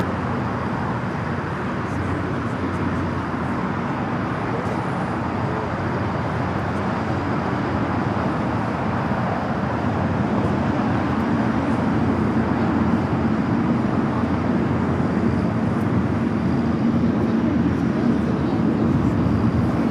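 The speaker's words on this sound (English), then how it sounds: "Air Tahiti Nui, the flight to Paris, also heading for a south side takeoff." An Air Tahiti Nui airliner bound for Paris taking off from the south side at LAX, a loud, steady broadband roar that swells slightly toward the end, no speech.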